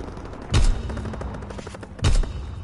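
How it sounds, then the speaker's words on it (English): Mortar fire in a PS4 military video game, two heavy thumping launches about a second and a half apart, each a loud low boom standing out over a steady background of game ambience. "Mortar shot out"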